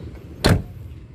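The door of a 1995 Toyota Starlet 1.3 swings shut with a single short, solid thunk, close by against a faint ambient background.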